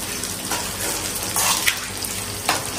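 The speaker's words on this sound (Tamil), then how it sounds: "நம்ம தண்ணி ஊற்றி விட்டுருவோம்" Water is poured into a pot of seafood cooking on the stove, making a steady, close rushing splash with a few brief louder gushes and no talking.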